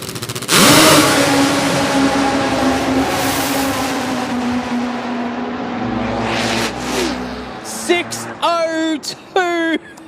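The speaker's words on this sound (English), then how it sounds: "225 mile an hour, Chris Matheson." The Nitro Voodoo nitro drag racing car makes a run at the Winternationals, a sudden thunderous blast that roars and fades over several seconds, followed by excited commentator speech in short loud bursts.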